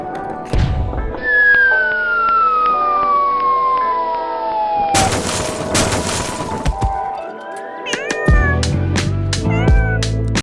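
Several cats meow and caterwaul repeatedly, loud and close, with one long drawn-out yowl sliding slowly downward, then a run of short sharp meows near the end.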